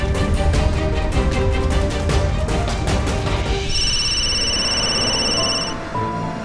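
A telephone rings in a dramatic indoor scene, its electronic ring tone steady and fairly loud, carrying on without pause for several seconds with no talking over it.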